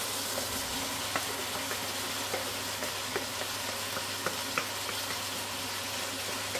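Steady frying sizzle of chicken meat in a hot pan as vegetables go in, a continuous hiss with faint clicks of stirring and utensil taps, close and fairly quiet.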